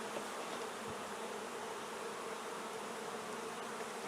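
Honey bees buzz at the front of a hive, making a dense, steady drone of many insects at once, fairly quiet and close, continuing unbroken with no talking.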